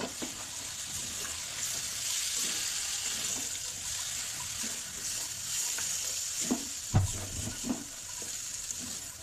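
Chicken meat sautéing in a pan with steady sizzling and frying hiss, stirred now and then with a few soft scrapes and knocks near the end, no talking.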